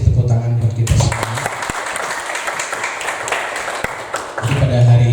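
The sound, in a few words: audience applause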